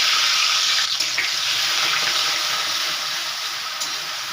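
Grated onion hitting hot oil tempered with dry red chilli and black cumin, a loud, steady hissing sizzle close up that fades slightly over time, with a few faint clicks and no voices.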